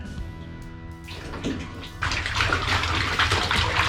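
Backpacks soaking in a tub of warm soapy water slosh and splash, getting louder halfway through as they are swished around, with faint background noise and no speech.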